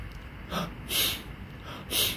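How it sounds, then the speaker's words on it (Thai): A man demonstrates drawing breath in through the mouth and pushing it out through the nose, three close, airy breath bursts with a snorting nasal edge, heard alone at moderate volume. "สูดหายใจเข้าทางปากออกจมูก"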